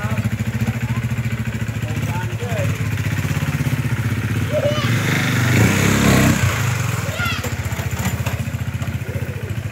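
A motorcycle engine runs steadily throughout with a low rumbling throb, rising briefly in the middle, while voices are faintly heard over it.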